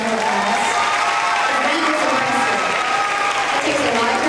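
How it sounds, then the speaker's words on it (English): Steady applause from an elementary school awards audience for a young third-grade spelling bee student, dense and continuous with a few voices and cheers mixed in throughout. "So let's give Lucy a round of applause."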